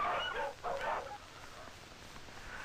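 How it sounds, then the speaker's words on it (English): Sled dogs in northwestern Alaska bark twice in quick succession, fairly faint and distant, followed by quieter outdoor ambience. "Our sled dogs are the only domestic animals we have."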